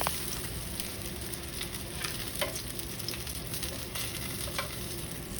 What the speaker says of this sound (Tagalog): At kapag naprito na natin ang bangus, alisin na sa kawali at isa-isang tabi.